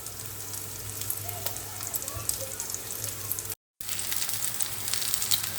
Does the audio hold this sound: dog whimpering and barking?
no